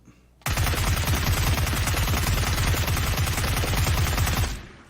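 Sustained burst of UMP submachine gun fire with a vertical grip in PUBG's training mode on Xbox, a loud, rapid, even stream of shots lasting about four seconds before stopping abruptly.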